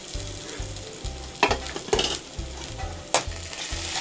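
Ginger garlic paste frying with onions in a pan, a steady sizzle with repeated scraping strokes of a spatula stirring, close and clear with no voices.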